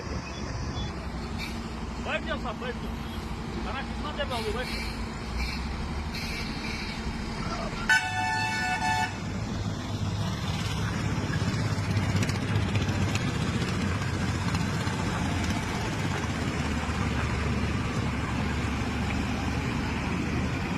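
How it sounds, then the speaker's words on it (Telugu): Heavy road traffic at a jam after a road accident: steady engine rumble with several short car horn toots and one sharp blast of a horn close by, as a person speaks at times. "ఎంత ట్రాఫిక్ అంటే ఇక్కడ అంత ట్రాఫిక్"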